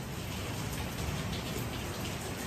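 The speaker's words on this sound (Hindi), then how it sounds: "इतनी अच्छी बरसात हो रही है" Steady rain falling outdoors, a dense, even hiss of drops hitting surfaces that holds without a break.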